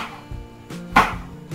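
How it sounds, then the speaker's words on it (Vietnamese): A peeled fresh coconut, its black outer skin pared away, is cut into small pieces with a knife for a Central Vietnamese mixed sweet soup. Two or three crisp, near chops land on a cutting board. "Bây giờ thì mình sẽ xắt dừa ra thành các cái miếng nhỏ"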